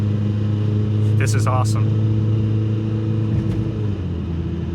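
A Nissan Pike car accelerates up a big hill after downshifting, its engine a loud, steady, close hum that rises slightly, while a person briefly speaks over it.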